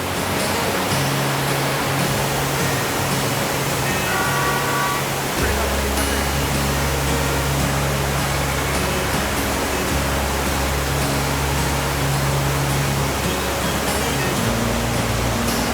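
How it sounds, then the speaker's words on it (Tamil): Silver Cascade waterfall in Kodaikanal pouring heavily after rain, a steady broadband roar of falling water filling the whole scene, with faint voices and other noise mixed in. "ரொம்ப நாளா வறண்டு கிடந்த வெள்ளி நீர்வீழ்ச்சி அருவியில தண்ணி அதிகமா வர ஆரம்பிச்சிருக்கு"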